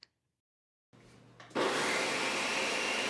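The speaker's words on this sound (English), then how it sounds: "I added 2 cups of rolled oats to a blender and blended on high for around 30 seconds until a fine flour formed" A blender on high grinds two cups of rolled oats into fine flour: after a quiet stretch and a click, the motor roars up loud and runs in a steady, close, gritty whir.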